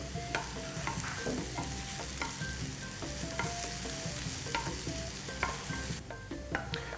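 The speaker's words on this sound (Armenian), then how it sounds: "Կաթը այնքան պետք է եփվի, որ գոլոշի անի։" Milk bubbles steadily in a pot on the stove with carrots, celery and mushrooms, a close continuous simmering sizzle dotted with soft pops and occasional clinks, with no talk.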